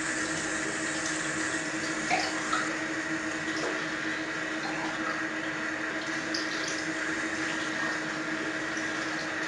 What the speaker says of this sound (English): Let's rinse this baby. Clean this up. Rinse it real good.